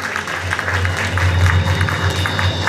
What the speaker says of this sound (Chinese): 我们是再次掌声恭喜他。